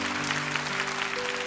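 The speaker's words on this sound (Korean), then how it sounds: "큰 박수로 축복해 주시면 좋겠습니다" Congregation applause fills a church sanctuary, a steady, dense clapping wash held at even loudness throughout, with a low sustained tone running beneath it.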